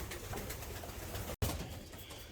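Racing pigeons coo softly in a loft, their low murmuring calls mixed with steady background rustle and a brief dropout partway through.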